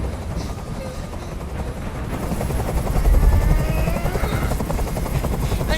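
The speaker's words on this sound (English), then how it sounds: "I can't stand that noise anymore. Tell that helicopter to get out of here." A loud, steady helicopter rotor thrum from Detroit: Become Human, with a low pulsing beat, growing heavier midway, mixed with game background noise.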